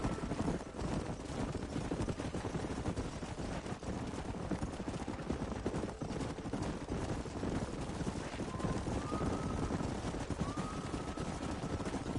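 Horses galloping in Red Dead Redemption, a continuous rapid drumming of many hooves under a faint distant whistle-like call and low ambient noise.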